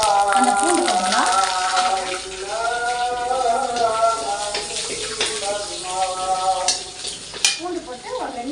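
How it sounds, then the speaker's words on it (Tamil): Garlic drops into hot oil with popped mustard seeds for a village-style sorrel leaf chutney tempering, giving a continuous close sizzle and crackle while a voice sounds over it. "அந்த பூண்டு போடலாம்"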